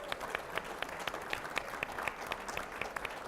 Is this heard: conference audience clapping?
yes